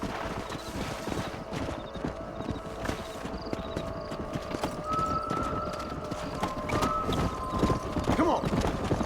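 Horses clip-clopping in the Red Dead Redemption video game, a steady run of hoofbeats close by with a neigh or whinny breaking through, set against a continuous outdoor ambience with faint tonal sounds.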